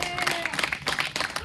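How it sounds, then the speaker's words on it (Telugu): A church congregation claps together at a Telugu Christian sermon, a quick run of close, irregular hand-claps mixed with voices and some faint tones in the background. "చప్పట్లు కొట్టాలి గట్టిగా"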